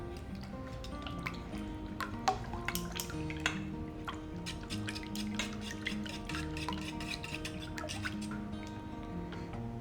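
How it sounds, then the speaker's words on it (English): Whisking wet ingredients in a bowl for jalapeño popper cornbread, a steady run of quick clinking and stirring strokes, close and continuous throughout with no talk. "now whisk these together"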